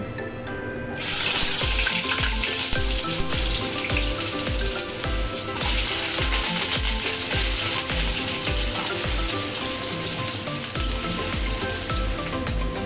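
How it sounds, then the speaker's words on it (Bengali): Chunks of elephant foot yam frying in mustard oil in a wok, a loud dense hiss that swells sharply after the first second and holds steady, with faint scraping clinks throughout and no voices. "কড়াইতে সর্ষের তেল দিয়ে দিয়েছি সবার প্রথমে এখন আমি ওলটাকে একটু ভেজে নেব"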